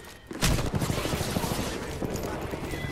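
Rapid gunfire in the battle royale game Apex Legends, a loud opening crack followed by dense, continuous bursts of shots and impacts for the whole span, busy and close.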